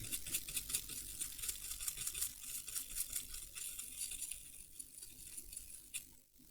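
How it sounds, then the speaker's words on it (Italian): Rapid, steady scrubbing of a toothbrush's stiff bristles inside a Nintendo handheld console, close and fairly quiet, tapering off near the end. "spazzolino"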